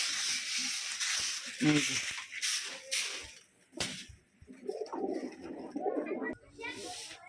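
Caged pigeons coo softly in bursts alongside scraping and knocking as the cages are shifted around, with a voice talking at times.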